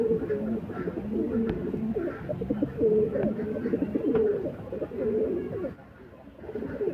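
Kasuri and Rampuri pigeons coo repeatedly at close range, low throaty warbles rising and falling in overlapping bursts, with a few brief sharper clicks and no other sound standing out.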